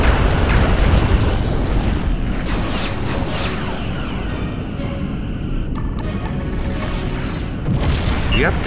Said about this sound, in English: Romulan vessel destroyed.